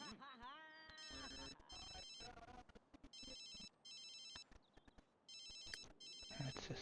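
A phone rings repeatedly in a life-simulation video game, with regular bursts of electronic trilling under game chimes, character chatter and footstep-like clicks.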